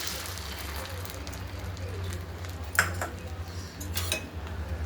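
An egg is added to bread in a hot pan, with steady sizzling and a hiss under a couple of light clinks of a utensil against the pan, close by.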